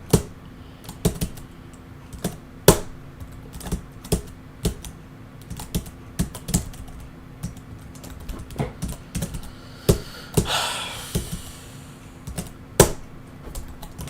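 Someone types on a computer keyboard in irregular bursts of sharp clicks and key taps spread over about fourteen seconds, close and clear, with a brief rustling swell partway through.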